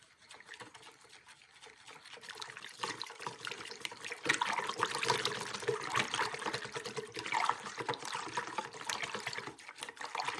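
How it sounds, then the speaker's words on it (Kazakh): Warm milk poured into chocolate pancake batter, followed by a whisk stirring and sloshing the liquid mixture in a bowl; close, trickling and splashing, gradually growing louder with no talking. "қалған жылы сүтімізді құйып, венчикпен біркелкі масса болғанша араластырып аламыз"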